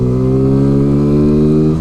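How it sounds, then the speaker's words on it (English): Sinnis Apache SMR 125 motorcycle accelerates hard, its loud, close engine note climbing steadily in pitch for about two seconds with no talk. "I want to see what it's like on an acceleration up to 40."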